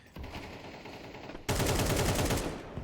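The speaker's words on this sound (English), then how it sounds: "that is a great spray from Timo" Sustained automatic rifle fire sprays in a Counter-Strike 2 esports match, a steady run of rapid shots that grows louder and denser halfway through, with no talk.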